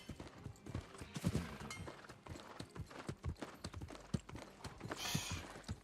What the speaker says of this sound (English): riding with my horse through the aqueduct would have been super illegal in actual Rome